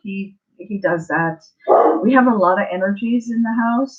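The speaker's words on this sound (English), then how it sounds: "That is our dog. Please ignore our dog." A pet dog barks and yips indoors at home, several short close barks breaking through steady conversation, with people talking over and between them.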